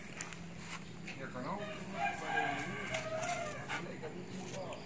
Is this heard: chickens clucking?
yes